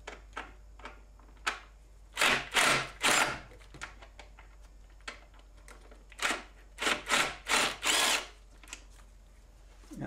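An impact wrench works on a Torx T40 bolt during brake booster replacement on a BMW E46 330i/325i, firing in short loud bursts: a pair of hammering runs, a pause with faint handling clicks, then a quicker series of bursts, all close.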